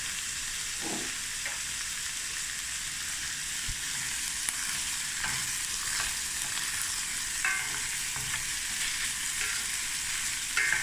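Garlic cloves fry and brown in a pot for a cauliflower stew, giving a steady bright sizzle with occasional pops and stirring clatters, close to the microphone and with no voices.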